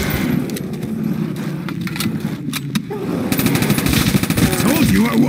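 A MAC-10 submachine gun fires in Call of Duty World at War custom zombies, with rapid bursts of loud automatic gunfire crackling in quick stuttering runs amid other game noise while a voice talks.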